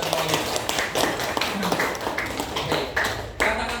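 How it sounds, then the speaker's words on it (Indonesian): Classroom of students clapping their hands together, a burst of many quick irregular claps at moderate loudness, with voices mixed in. "Tepuk tangan buat kita semuanya."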